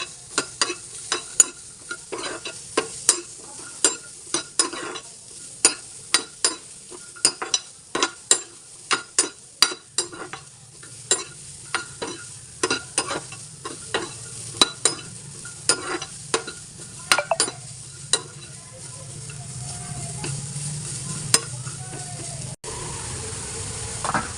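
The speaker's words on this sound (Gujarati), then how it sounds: "હવે આપણે આદુ ને લસણ, ડુંગળી, આદુ આપણે શેકી લઈશું" Ginger, garlic and onion roast in a pan for stuffed brinjal curry, with a run of sharp stirring clacks and scrapes over a low sizzle that gives way to a steadier frying hiss toward the end.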